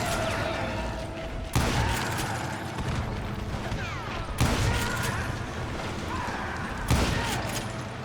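Gunfire in the western shooter Call of Juarez: Gunslinger, with three sharp loud volleys spaced a few seconds apart over a busy game background, and a faint voice at times.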